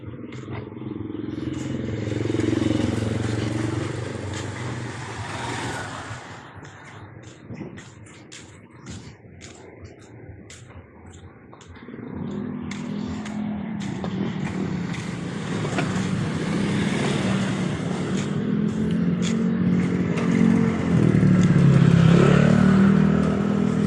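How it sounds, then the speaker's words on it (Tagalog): Motorcycles and cars pass along a road leading to a market, a continuous mix of engine noise and revving that swells and fades with each passing vehicle. "Mga motor, 4 wheels."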